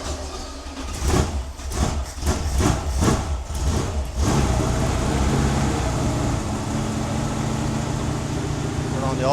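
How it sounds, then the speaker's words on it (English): A freshly built Ford 302ci V8 on an engine stand cranks in several rhythmic pulses, then catches and settles into a loud, slightly stumbling idle that carries on steadily. "it's actually a little more stumbly idling than normal, but it also revs really quick because there's no weight behind it"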